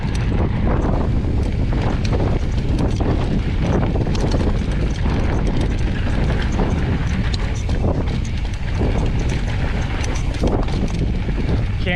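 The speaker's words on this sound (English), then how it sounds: "It is windy up here." Steady, loud wind buffeting the microphone on a downhill mountain bike trail at 3 Peaks, Cedar City, a constant rushing roar with low rumbling gusts throughout, no clear voices.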